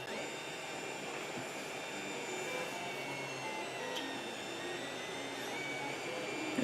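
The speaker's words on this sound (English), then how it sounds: "It's printing." Creality CR-10 3D printer running a small test print: a steady whirring hum with high stepper-motor whines that shift in pitch, continuous and even, with a few faint clicks and no voices.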